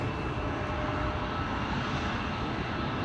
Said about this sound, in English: Embraer 175.